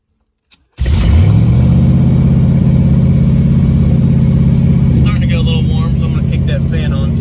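A 1984 Corvette engine idles high at about 2,000 rpm, starting up after a brief click and then holding a steady, loud, close drone with a faint fan whir joining toward the end.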